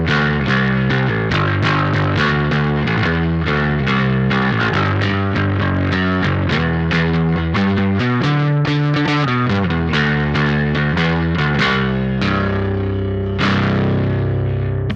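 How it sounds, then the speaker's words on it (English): Electric guitar played through an Electric Love Aquatone pedal with the treble turned down, the bass turned up and the gain lowered slightly. A continuous run of picked notes and chords sounds loud, full and gently driven, with no talking. "That sounds kind of like a really cool like tone shaper more than a distortion pedal"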